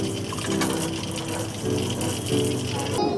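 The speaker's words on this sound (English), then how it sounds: "Important to keep the water running, so to keep it fresh." Water runs steadily through a pipe that feeds a longhouse on an off-grid green-living homestead, a loud, continuous gushing flow like a running tap, close and unbroken throughout.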